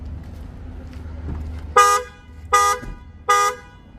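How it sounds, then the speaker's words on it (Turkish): Three short honks of a 2024 Ford Transit van's horn as it double-locks, evenly spaced and loud, over a low idling rumble. "Çift kilitlemede kornamız arkadaşlar"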